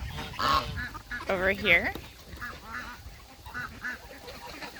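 A Cayuga duck and her ducklings quack and honk at feeding time in a few loud calls up close, with a person talking briefly over them.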